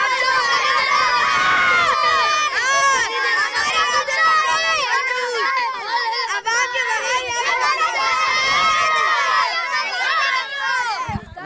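A crowd of children shouts together at a protest over a park in North Nazimabad, loud and close, voices overlapping in continuous excited yelling and chanting with general hubbub throughout.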